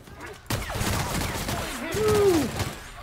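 A gun in The Outer Worlds fires a loud burst of shots starting abruptly, followed by sustained noisy gunfire and a sweeping whine, heard alone.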